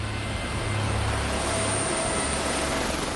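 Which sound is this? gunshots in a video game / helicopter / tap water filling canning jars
helicopter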